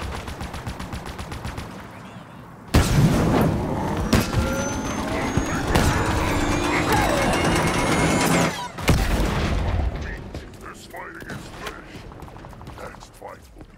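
Heavy sustained gunfire in a Halo Infinite firefight, dense rapid bursts and loud impacts filling most of the stretch, briefly cutting out before resuming with scattered shots and mechanical clatter toward the end.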